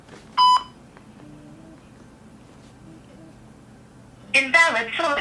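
Telephone keypad tones: one short, bright beep near the start, then a quick cluster of several keypad tones near the end, with a quiet phone line in between.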